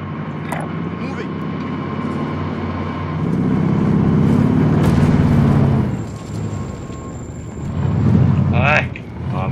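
A vehicle is driven in the Call of Duty Warzone game, its engine rumble swelling in the middle and again near the end, mixed with other game sounds and a player's speech.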